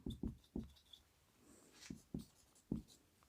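Chalk or marker strokes on a board in a physics class on electric charges: a series of short, sharp taps and scratches in an irregular rhythm, close and faint, with no talking.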